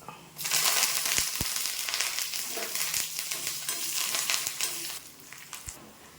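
Curry leaves crackle and spit in hot tempering oil over a slow flame, a loud, dense sizzle that rises suddenly and keeps going, with a few sharp pops.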